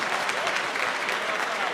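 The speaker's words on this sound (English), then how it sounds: "please give her a round of applause, folks" Audience applause at a New York City housing conference keynote, a steady dense wash of many hands clapping, fairly loud and close, continuing without a break and with no talk over it.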